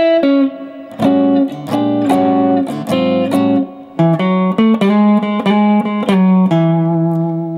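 A clean electric guitar plays a quick major blues phrase of plucked single notes and short slides, ending on a held low note. Fairly loud, no voices.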